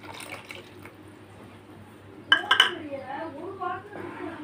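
A cup of water is poured into a pan of simmering egg pepper gravy: a few sharp clinks of a vessel, then a short splashing pour, while a voice talks over it.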